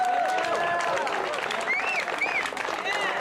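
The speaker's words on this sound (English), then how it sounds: "So one more big round of applause for Senator Gonzalez" Applause from a crowd at an outdoor rally opposing a data center on Seneca Lake, New York, honoring a state senator: steady, dense clapping with whistles and cheers mixed in, loud and continuous throughout.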